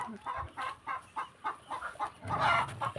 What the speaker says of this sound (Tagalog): Ito po yung iba pang sabong oh.